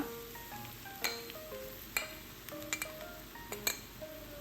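Grated radish tossed into chilies frying in a pan for a radish thoran, giving a steady low sizzle with sharp clinks of a spoon against the pan at a stir.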